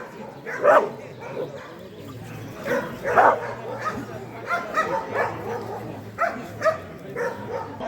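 Pointing dogs at a hunting dog show in Rogatyn, Ivano-Frankivsk region, bark and yip in repeated bursts at moderate distance, mixed with whimpers and people talking around the ring.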